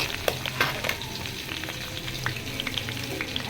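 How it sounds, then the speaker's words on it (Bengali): Whole spices (black cumin, white cumin, cloves, bay leaf, cardamom and cinnamon) fry in pure mustard oil, giving close, steady crackling with scattered sharp pops. "সরিষা তেলের মধ্যে একটু কালো জিরা, তারপর সাদা জিরা, লং, তেজপাতা, এলাচ, দারচিনি, এগুলো দিয়ে একটু ভাজতেছি"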